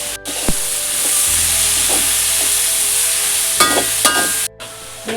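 Chopped onions with salt fry in hot oil for kadai chicken masala, a loud close sizzle that runs throughout, broken by a few scraping stirs of a spoon in the pan.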